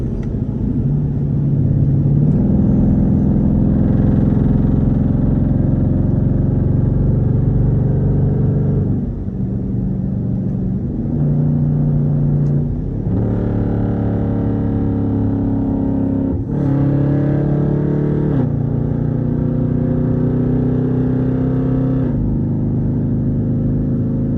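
A straight-piped Jeep exhaust roars loud and close, rising in pitch through several pulls, then dropping sharply at each downshift before climbing again, with a steady rumble throughout.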